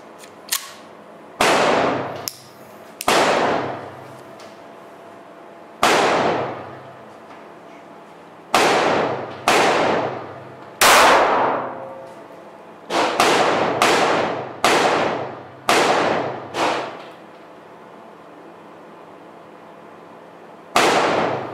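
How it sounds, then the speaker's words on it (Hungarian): Korth PRS .45 ACP pistol firing 230 grain full metal jacket rounds, about a dozen sharp, loud shots at irregular intervals, some in quick pairs, each with a short ringing decay, no talking. "Laktek 230 grénes teljes köpenyes lövés."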